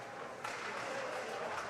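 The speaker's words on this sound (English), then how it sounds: "Has both benches clapping him right now." Both benches at a junior hockey game clap for an injured player, a soft, steady patter of applause heard from a distance throughout, faint under arena ambience.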